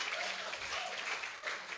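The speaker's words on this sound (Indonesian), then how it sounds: "Kita tepuk tangan dulu dong buat semuanya hari ini" An audience at an evening discussion session claps together for everyone after a long day, a steady broadband patter of many hands held at a moderate level for under two seconds.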